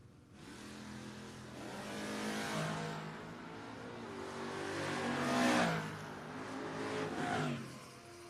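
At a drag race, an El Camino and a Camaro roar down the track together. Their engines rise and fall in a sustained, harmonic-rich howl at moderate distance with no talking.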